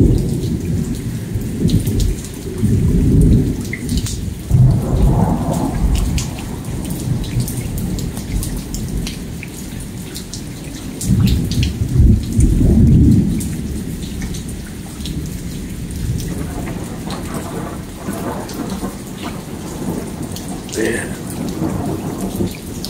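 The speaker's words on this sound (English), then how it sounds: "It's just straight, constant thunder rolling from one side of the sky to another. It just doesn't stop. Roaring back and forth, crackling and roaring." A thunderstorm in Lufkin, Texas, with heavy rain hissing steadily while deep thunder rolls and rumbles almost continuously, surging in loud waves across the sky.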